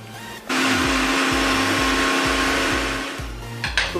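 Loud close blender whirring through burger ingredients in one sustained run of about three seconds, its motor pulsing rhythmically before winding down, followed by a few knocks.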